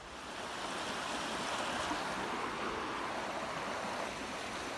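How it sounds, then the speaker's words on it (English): Mission Creek in Kelowna, British Columbia flows with a steady, broad rush of water, close and continuous with no voices over it. "It's a beautiful creek."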